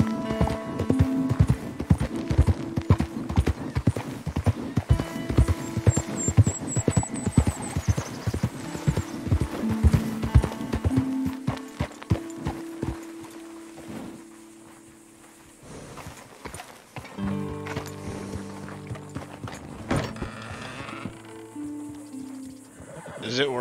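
Steady clip-clop of horse hooves in Red Dead Redemption 2 trots along with a whinny, then the hoofbeats fade and a humming drone with scattered clatter follows.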